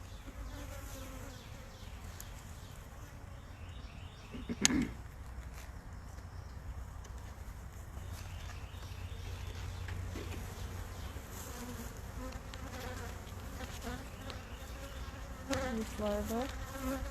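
Honey bees buzz as a steady, low drone during a hive inspection, close and continuous, with a few faint knocks and handling noises partway through.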